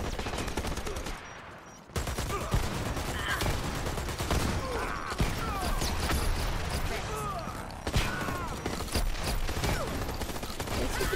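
Sniper and other gunfire in the video game Dirty Bomb: dense bursts of shots and rapid firing crackle throughout, fairly loud and busy, with a brief lull near the start, while a player talks over it.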